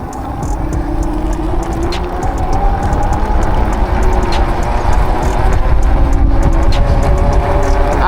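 A Lectric XPeak and a Ridstar e-bike race side by side, a loud rushing blend of wind and motor whine with rolling tire noise, building steadily and close to the mic.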